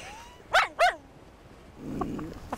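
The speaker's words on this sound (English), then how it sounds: "when the other dogs are all going, hur, hur, this one's going, hur, hur." A puppy among sled dogs in Siberia gives two sharp, close barks in quick succession, then quieter scattered yips and rustling follow in an open outdoor setting.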